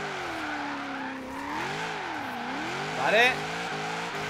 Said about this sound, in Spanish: vamos a calentar un poquito las ruedas